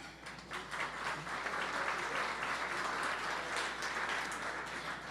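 Audience at an evening camp celebration applauding steadily, a dense even wash of many hands clapping, moderately distant and sustained throughout.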